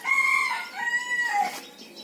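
Large broiler chickens give a short burst of clucking and crow-like calls, close and fairly loud, with wavering tones that fade toward the end and no talking.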